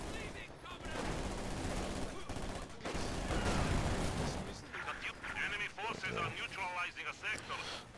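Rapid submachine gun bursts from conscript squads wielding PPSh guns in Company of Heroes 2, dense and continuous under voices, mixed with artillery booms and other battlefield gunfire throughout.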